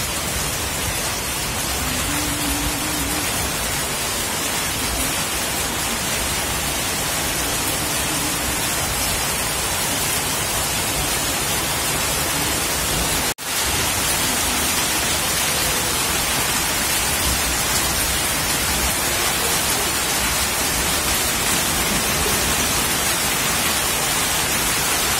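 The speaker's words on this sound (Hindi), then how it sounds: "जैसे जैसे बारिश तेज हो रही है ना" Heavy rain pours steadily and loudly in an area that gets a lot of rainfall, a dense unbroken hiss with a brief dropout midway and no voices.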